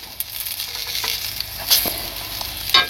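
Food sizzles and crackles steadily in a pan on an electric hot plate, with a few sharper spits and pops over a continuous hiss; nobody speaks.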